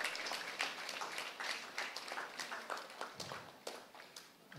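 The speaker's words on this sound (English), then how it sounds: "How about a big round of applause for everyone who has promoted inclusion, supported for special education students at Hilo High." A crowd at a school inclusion rally at Hilo High applauds, dense clapping that fills the space with uneven swells and scattered sharper claps, steady and loud throughout.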